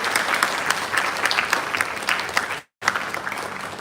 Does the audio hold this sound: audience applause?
yes